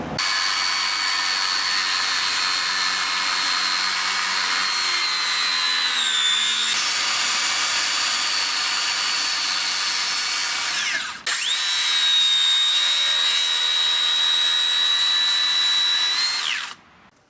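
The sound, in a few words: Makita 40V circular saw cutting framing timber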